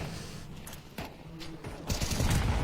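Gunfire in Counter-Strike 2 on the Dust 2 map during a semi-final match, a burst of shots followed by dense rattling fire that grows louder toward the end, over a busy noisy background.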